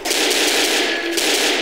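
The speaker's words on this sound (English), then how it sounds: "Now this is a big ass machine gun." A heavy mounted machine gun in Left 4 Dead fires a loud, continuous close-range stream of shots that blur into one sustained roar.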